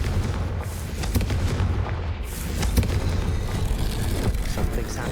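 Confringo spell exploding in the Hogwarts Legacy video game, a loud, dense rumbling blast with crackling debris that sustains for several seconds.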